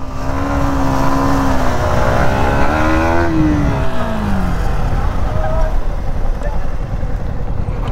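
Motorcycles, including a KTM RC 125, roar past nearby with steady loud engine drone and rising, falling revs, the pitch sweeping upward then down as one passes.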